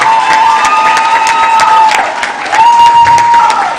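A crowd claps steadily at a university moot court competition, dense and loud for several seconds, with some cheering and a thin tonal sound beneath the clapping.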